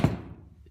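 A single dull, hollow thunk as a friction-fit wooden handle is banged onto a tool in a workshop, fairly faint and quickly fading.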